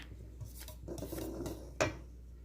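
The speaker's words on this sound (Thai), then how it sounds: "คนส่วนผสมทุกอย่างให้เข้ากันจนเป็นเนื้อเดียวประมาณนี้นะคะ" Cake batter of flour, milk, yogurt and baking powder being stirred in a bowl, soft scraping and rubbing strokes with one sharper knock of the utensil against the bowl near the end.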